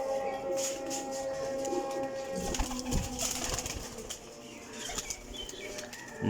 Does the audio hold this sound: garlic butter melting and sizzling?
no